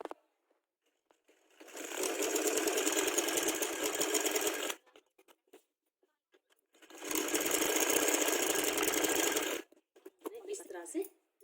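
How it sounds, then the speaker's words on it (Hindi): Sewing machine stitching fabric for a zip suit, running in two long steady bursts of several seconds each with quiet gaps between, close and fairly loud, then a few short starts at the end. "अब हम इनके ऊपर सिलाई लगाएंगे।"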